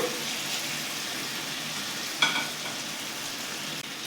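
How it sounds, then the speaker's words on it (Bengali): Fried potatoes and pumpkin go into a pan of cooked-down spice masala for kumror chhakka, giving a steady, moderate sizzle with one sharp clatter midway. "মশলাটা আমার খুব ভালো করে কষা হয়ে গেছে এবারে যে আলু আর কুমড়োগুলো ভেজে রেখেছিলাম সেইগুলো দিয়ে দিলাম"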